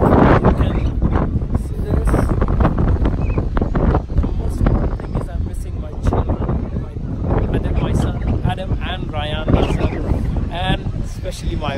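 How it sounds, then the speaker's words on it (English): A strong, cold wind at Mount Fuji in Japan roars and buffets the microphone continuously. Someone speaks throughout, partly under the gusts. "Wind is very, very hard, and very cold"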